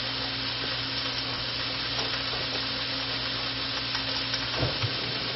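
Jalapeno and vegetables frying in a pan, a loud steady sizzle with occasional stirring scrapes, heard close and without any talking.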